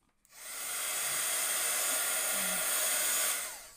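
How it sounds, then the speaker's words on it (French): A heat gun blows a steady, loud rush of hot air over alcohol ink for a few seconds, switching on with a click, holding an even hiss and then cutting off. "Et un petit coup de heat gun et ce sera bon."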